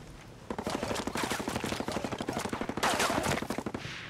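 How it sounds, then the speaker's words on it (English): Rapid automatic gunfire in the video game Ghost Recon Breakpoint, a dense, close burst of shots in quick rhythm lasting several seconds, with a louder flurry near the end. "Enemy fire!"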